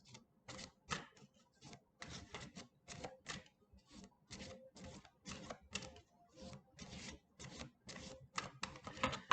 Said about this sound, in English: Just going to give it a little shuffle here.